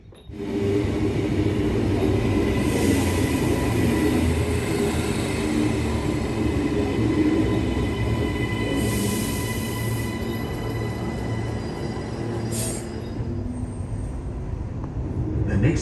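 Brisbane City and Gold Coast commuter train running express from Roma Street to Beenleigh, heard from inside the carriage as a steady loud rumble of wheels and motors with faint squeals and hiss throughout.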